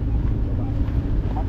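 Steady low engine drone of a passing fishing boat with a 45 engine carrying 14 blocks of ice, continuous and fairly close on open water, with wind buffeting the microphone and no other sounds over the rumble.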